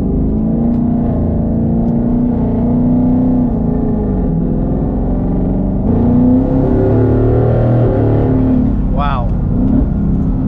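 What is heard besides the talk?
twin turbo 2019 Mustang GT on E85 accelerating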